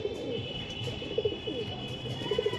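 Pigeons of a high-flying breed with closed tails give soft, repeated coos at moderate distance over a steady background hum, with a few brief louder calls near the end.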